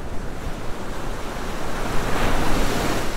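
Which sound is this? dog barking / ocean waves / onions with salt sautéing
ocean waves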